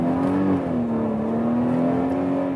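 An SUV engine accelerates hard in a premium midsize model, a steady, refined drone that holds a smooth, slowly shifting pitch throughout, close and prominent with no talking.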